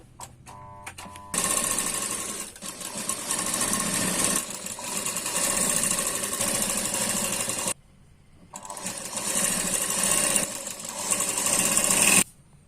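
An electric sewing machine stitches blouse fabric in close, loud runs of rapid needle clatter, stopping briefly between seams and then starting again, with no talk over it.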